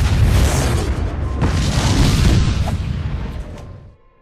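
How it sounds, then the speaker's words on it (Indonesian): Warehouse explosion from the film Freddy vs Jason: a heavy, loud boom with a rumbling roar that holds for a few seconds before fading out. "tempat itu pun meledak."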